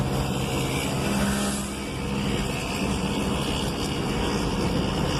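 Dense road traffic roars steadily past an open car window in heavy congestion, a loud, continuous wash of engine and tyre noise with a slight dip midway, no one speaking.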